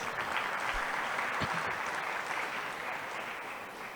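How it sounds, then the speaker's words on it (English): An audience at a nursing college's 30th anniversary celebration applauds, a steady wash of distant, moderately faint clapping that tapers slightly toward the end. "She too deserves a round of applause."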